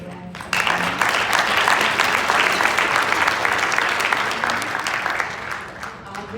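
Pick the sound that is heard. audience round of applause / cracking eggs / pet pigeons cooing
audience round of applause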